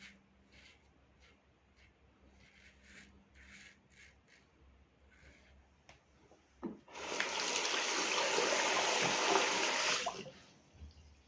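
A safety razor is rinsed under running water, with a loud, steady rush of water for about three seconds after a quieter stretch of small taps and clinks.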